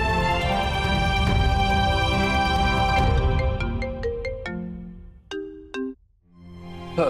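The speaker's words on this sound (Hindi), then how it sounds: "नायरा प्लीज प्लीज फोन उठाओ।" A phone rings loudly with a bright electronic ringtone melody that plays in a repeating pattern. Toward the end it breaks into short separate tones with brief gaps, with no voices over it.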